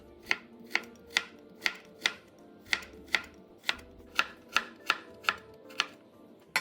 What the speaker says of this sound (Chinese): 然后再切成丝。